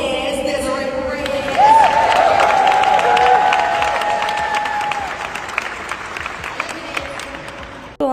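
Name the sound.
applause at a gala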